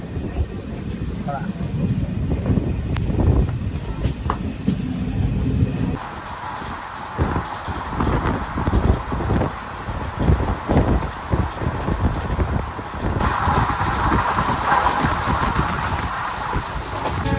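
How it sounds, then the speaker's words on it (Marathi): The Tutari Express pulls out of Vilawade station on a monsoon journey, a continuous rumble of train wheels and carriage noise that shifts in tone partway through, with someone talking over it. "सिग्नल भेटलेलो आणि गाडी आता निघाली"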